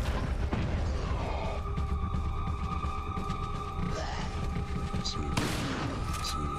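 Rocket launcher fire in Resident Evil 4 lands in a loud, dense barrage of blasts and booms over continuous gameplay noise, with a sharp explosive burst near the end and a voice talking throughout.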